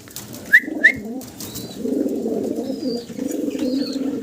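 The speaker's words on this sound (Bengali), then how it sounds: "চমৎকার এই কবুতরগুলো খুবই চঞ্চল দেখতে পারতেছেন" Pigeons cooing on a farm in low, steady murmuring coos that build and continue, with a couple of short bright chirps near the start and faint whistles above.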